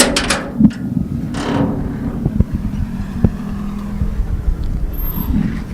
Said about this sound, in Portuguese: O barulho desta porta a abrir-se para a liberdade é o que muitas mulheres querem presenciar